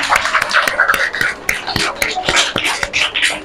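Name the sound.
children clapping in class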